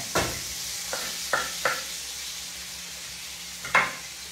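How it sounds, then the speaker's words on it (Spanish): Chopped onion dropped into a hot frying pan, giving a steady background sizzle broken by several short scraping stirs and clatters, close and moderately loud with no talk. "echamos la cebollita y aquí está"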